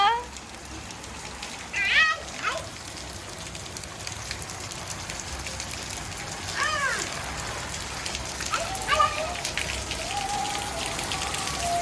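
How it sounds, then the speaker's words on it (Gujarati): Steady rain pattering on surfaces fills the background throughout, with a cat meowing and people chatting over it. "વરસાદ આવ્યો"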